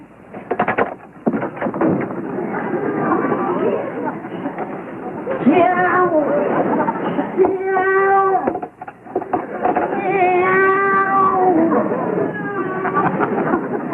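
A voice imitates a cat, drawing out several wavering meows among muffled speech and bumps, heard close on a lo-fi recording.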